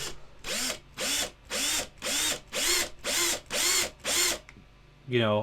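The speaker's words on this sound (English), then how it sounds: "we want to make sure that we're not gonna end up drilling in a thin piece of arm" Small drill boring a pinning hole into the arm of a 1/6 scale resin figure kit: eight short whirring bursts in a steady rhythm, close and clear, with a brief higher whine at the end.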